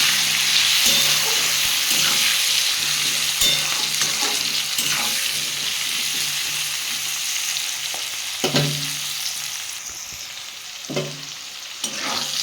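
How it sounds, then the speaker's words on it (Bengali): Winter vegetables frying in oil with a pinch of turmeric, a steady close sizzle broken by repeated scraping and stirring knocks from a spatula. "আমি এগুলো ভালো করে একটু ভেজে নেব"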